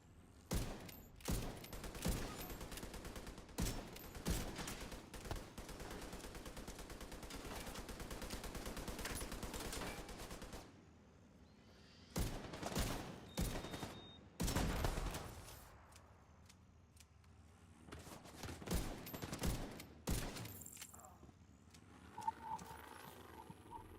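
Rifle fire in the shooter game The Division 2: dense rapid bursts of loud gunshots, a long continuous string followed by separate shorter volleys with quiet gaps between, no voices.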